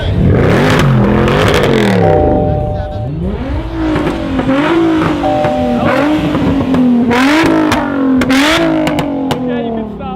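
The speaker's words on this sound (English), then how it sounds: "Rev it! Rev it! Rev it! Rev it!" A car engine revs hard at a car meet, loud and close, with repeated rising and falling revs while a crowd shouts over it.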